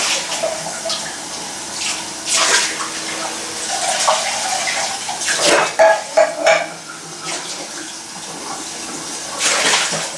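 Tap water running and splashing as containers are rinsed out in a kitchen sink, with clattering of the containers against each other and the basin, fairly close and continuous with brief louder bursts.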